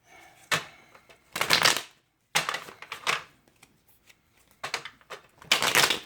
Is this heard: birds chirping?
no